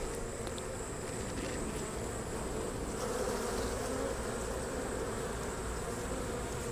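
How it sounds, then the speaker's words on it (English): Honeybees buzzing in an open hive, a dense, steady drone of many wings close by, continuous and even throughout with no voices. "I see a bee with pollen on her legs running around."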